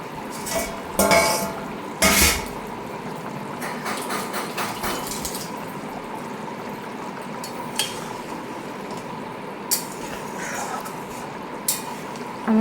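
Boiling egg curry gravy as fried boiled eggs go in, with a constant bubbling bed broken by sharp clanks of a spoon or ladle against the pan, a few louder knocks early on.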